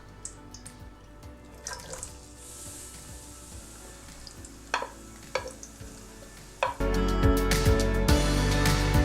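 Chopped onions frying in ghee in a pan, a steady sizzle with scraping stirs and light clinks. The frying grows much louder and fuller in the last few seconds.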